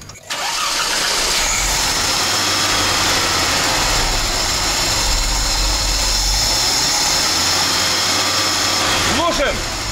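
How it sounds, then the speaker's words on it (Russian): A carbureted Audi engine is started and settles straight into a loud, steady idle close by, a continuous mid-pitched drone lasting several seconds. "заводим стартер, пожалуйста"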